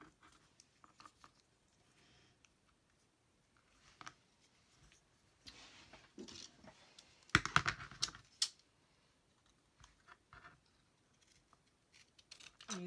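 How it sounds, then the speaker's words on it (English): Small ripple-edged craft scissors trimming paper scraps for tags, with quiet, sparse snips and paper handling. A denser cluster of crisp cutting and rustling lands in the middle, with no talking. "I'm using these little ripple scissors."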